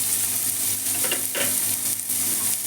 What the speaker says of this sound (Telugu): ఆయిల్ మంచిగా హీట్ అయింది. జీలకర్ర, ఉల్లిపాయలండి, ఒక కప్పు ఉల్లిపాయలు వేసుకున్నాం.